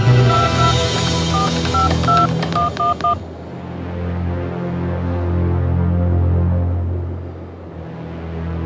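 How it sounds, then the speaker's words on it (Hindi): A telephone dials a doctor's home number during a TV crime drama. About a dozen quick touch-tone beeps sound clearly over a low humming music bed, which then carries on alone after the dialing stops. "तुम डॉक्टर के घर पे फोन लगाओ"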